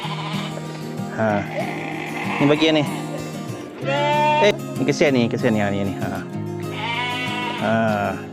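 Goats at a market bleat loudly and repeatedly at close range, the wavering cries overlapping while people talk nearby.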